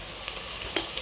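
Food fries in a pan with a continuous bright hiss of sizzling oil, broken by a few small pops.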